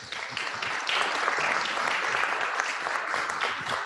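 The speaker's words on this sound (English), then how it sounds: "Let's give her a round of applause." Audience applause welcoming a judge as she comes up to speak at an evening talk, a steady wash of many hands clapping at moderate volume throughout.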